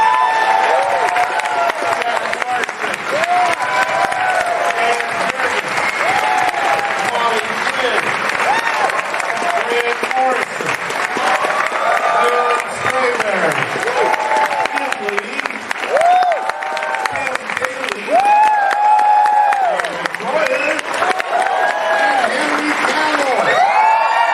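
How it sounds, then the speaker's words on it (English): A large audience at a San Diego Comic-Con panel claps loudly and steadily for the whole stretch, with scattered cheers and whoops rising out of the dense applause. "I do want you to give a round of applause for Paul Levitz."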